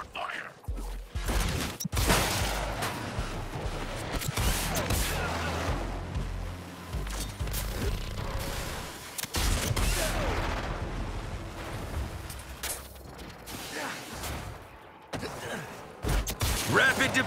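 Gunfire erupts in Suicide Squad: Kill the Justice League combat: repeated booming shots and blasts over a dense, chaotic battle din, mixed with voices and mechanical effects throughout.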